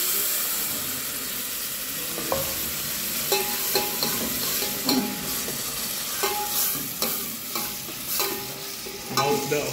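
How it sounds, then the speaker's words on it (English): Masala with tomato roasts and sizzles in a pan while a utensil stirs and scrapes it repeatedly, a steady frying hiss with clattering knocks throughout and no speech. "The masala is getting well roasted."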